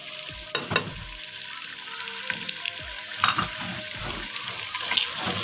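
Peas fry in a pan for a dhaba-style mixed vegetable dish, giving a soft steady sizzle with scattered clicks and scrapes of stirring, fairly quiet and with no voices.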